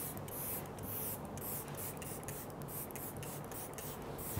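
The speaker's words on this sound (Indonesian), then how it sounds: "Kita semprot." Makeup setting spray is pumped repeatedly near the face, giving a close, rhythmic series of short hissing bursts over a constant rustling texture.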